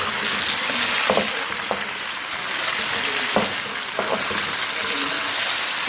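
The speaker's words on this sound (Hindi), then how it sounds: "चिकन को आपने अच्छे से लहसुन और प्याज के अंदर जो है वो फ्राई करना है।" Chicken frying in a pan with garlic and onion, a steady loud sizzle with occasional clicks and scrapes of stirring, and no talk over it.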